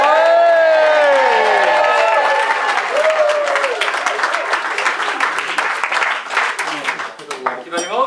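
Wedding guests at the speeches give the groom a loud, sustained round of applause with cheers and whoops, a whistle and voices rising over the clapping, which thins out toward the end.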